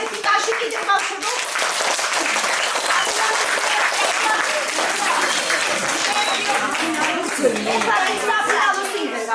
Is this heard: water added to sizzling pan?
no